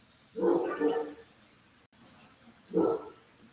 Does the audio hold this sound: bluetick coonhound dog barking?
yes